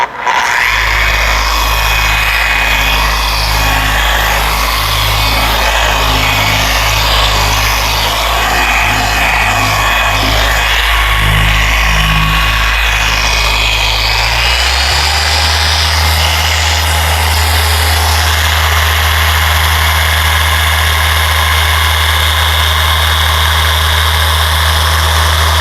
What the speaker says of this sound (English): when you polish, guys, just let the machine do the work